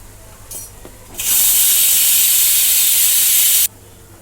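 A pressure cooker vents steam in a home kitchen, a loud, steady high hiss that starts abruptly, holds for about two and a half seconds and cuts off sharply, preceded by a brief softer hiss.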